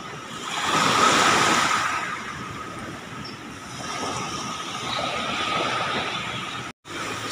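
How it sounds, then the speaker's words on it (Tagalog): Big sea waves surge and crash close by in strong wind, a steady roaring wash that swells and eases across the stretch, with a brief cut near the end. "So ibig sabihin malaki talaga yung alon."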